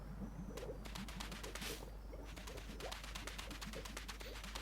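A bird in Super Mario Odyssey gives a series of quick, rhythmic wingbeat flaps and coos, close and fairly loud, over a steady low background hum.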